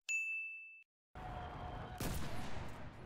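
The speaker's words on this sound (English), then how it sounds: "I'm just gonna get some pings down on the enemies there." A bright sustained electronic ping tone marking enemies in the World War II shooter Enlisted rings clearly, then after a short gap heavy gunfire and a loud explosion burst follow.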